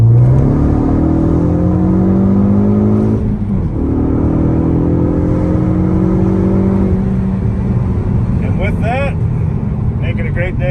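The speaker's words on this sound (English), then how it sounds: "purpose of this video is just going to be to do some freeway driving at normal freeway speeds" A 2013 Ford Focus ST3 engine drones inside the moving car, rising through gears with shifting tonal pitch sweeps and a steady road rumble; a voice talks over it.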